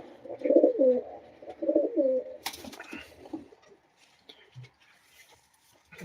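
Pigeons in a loft give a few soft, rolling coos close by, followed by quieter rustling and scattered faint sounds.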